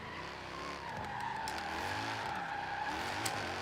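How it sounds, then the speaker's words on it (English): A drifting car sliding through a turn amid traffic, with continuous loud tire squeal and a wavering engine note close by; no one talks. "I'm going to go outside the vehicle for you just to show you that I am drifting"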